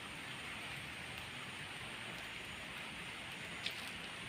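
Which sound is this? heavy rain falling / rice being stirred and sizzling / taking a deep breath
heavy rain falling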